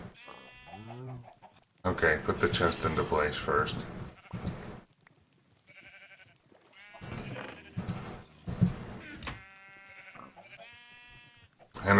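Sheep in a Minecraft modpack bleat in short, clear bursts between stretches of someone talking, the calls repeating at intervals across the scene.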